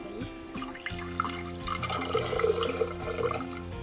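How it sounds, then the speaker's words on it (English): Lemonade pours steadily and gently into a container, a soft continuous trickle with faint splashing, close by and with no talking. "now I'm gonna pour it in really gently"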